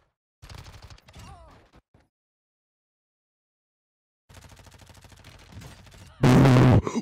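Warzone 2.0 gunfire arrives as short rattling bursts, a brief volley early on and a longer steady stretch later, ending in a loud close blast, with a player's voice talking between them.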